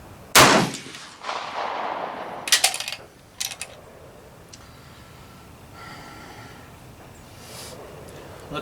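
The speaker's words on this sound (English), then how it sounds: "First shot out of this Private Series K31." A single sharp rifle shot from a Swiss Private Series K31 at an outdoor range, followed by fainter clacks and handling noises as the bolt is worked, then a quiet background.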